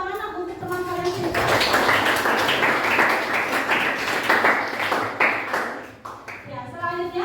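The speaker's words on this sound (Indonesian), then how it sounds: "Berikan tepuk tangan untuk teman kalian sini." Classroom students applauding a classmate during an Indonesian-language lesson on the dangers of drugs, a dense burst of clapping over a few seconds with a teacher's voice before and after it.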